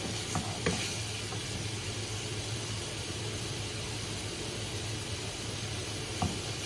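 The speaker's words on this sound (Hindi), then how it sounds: "तकरीबन 5 मिनट के लिए जो है हम इसको फ्राई कर लेंगे" Small marinated chicken pieces sizzle in a pan over high heat, a steady dense frying hiss with a few sharp spatters and clinks, with no talking.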